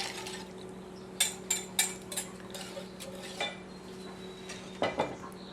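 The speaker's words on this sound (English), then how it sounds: "I'm going to whisk in 2 cups of heavy cream" Heavy cream whisked into corn chowder in a pot, a series of quick metallic whisk clinks and scrapes against the pot in short bursts over a faint low hum, no talking.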